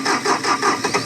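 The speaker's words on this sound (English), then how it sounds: "It shut off. I can't hold the starter on." The engine of a Bobcat T870 compact track loader turns over in a quick burst of cranking, rough and pulsing, loud and close, with no voices.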